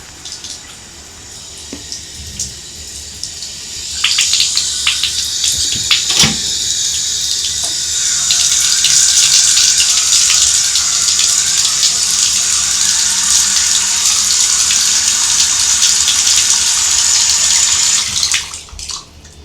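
Water pours steadily from a bathtub faucet during a stopper repair, a loud continuous rush that starts near the four-second mark and runs almost unbroken until it stops shortly before the end.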